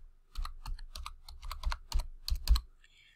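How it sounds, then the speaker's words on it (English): Username being typed on a computer keyboard: a quick run of a dozen or so crisp keystrokes, close and clear, with no talking. "let's just type in my username"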